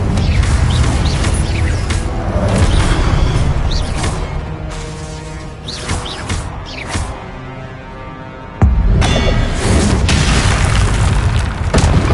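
Fire spell casting in a Harry Potter video game produces booming, whooshing bursts over continuous loud combat noise, with a sharp new blast near the end.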